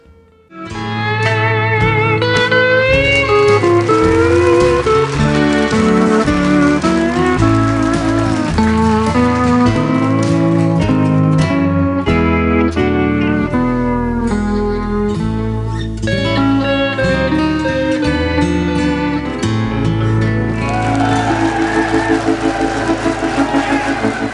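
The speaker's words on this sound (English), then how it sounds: "The straight steel guitar sounds much more Hawaiian" A twangy straight steel slide guitar with a Hawaiian sound glides between notes over a steady band backing, sustained and loud throughout with sweeping, bending pitches.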